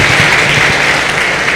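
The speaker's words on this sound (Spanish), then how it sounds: "Denle palmas al Señor en esta hora." A church congregation applauding together in steady, dense clapping that stays loud and even for a brief moment.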